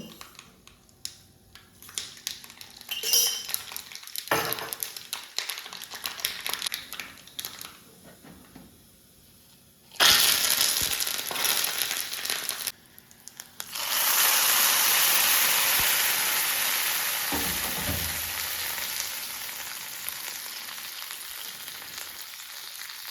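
Mustard seeds go into hot coconut oil in a pan for an okra pachadi. Quiet clatters give way to a sudden loud burst of spluttering and sizzling, which settles into a steady crackling hiss that slowly fades.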